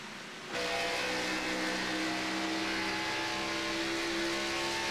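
Race cars in the iRacing video game roar in after a brief quiet moment, a loud, sustained engine drone at the Texas oval that holds steady to the end.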